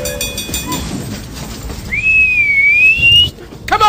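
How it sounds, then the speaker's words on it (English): A single steam train whistle sounds in the middle of a story, a clear rising tone held for just over a second against a faint background. "The train steamed off down the track towards the crowd of townspeople and Beverly and the mayor"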